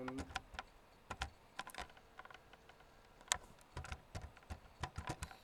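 Java code typed on a computer keyboard, a close, irregular patter of crisp key clicks in short bursts with brief pauses between.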